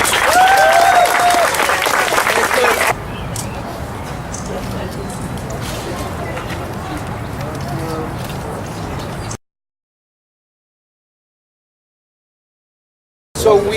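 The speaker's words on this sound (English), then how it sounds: "could we get a round of applause for all of the heroes?" An audience at a District 5 community heroes awards event applauds the heroes, a loud, dense burst of clapping that settles into a steadier, softer round for several seconds, then cuts to silence before a brief return.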